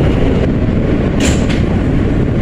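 A New York subway G train arrives at a station with a loud, continuous rumble of wheels and cars and a brief hiss of brakes, and no voices.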